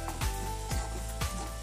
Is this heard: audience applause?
no